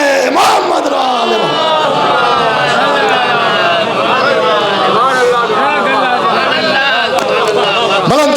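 A large congregation at a majlis loudly chants salawat in unison, a dense sustained roar of many voices filling the whole stretch, close and overwhelming.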